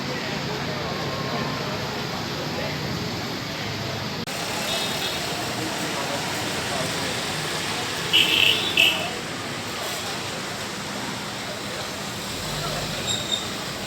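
An evening car ride with Papa through road traffic: a steady road-and-engine rumble runs throughout, with a couple of brief, louder bumps near the end and faint, muffled voices underneath.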